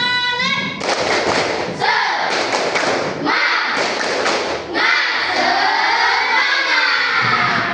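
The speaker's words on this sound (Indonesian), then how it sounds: "Ibu berikan dulu tepuk semangat" Indonesian classroom pupils doing a rhythmic 'tepuk semangat' spirit clap led by their teacher: loud bursts of patterned clapping and thumping in a close room, mixed with children's chanting voices.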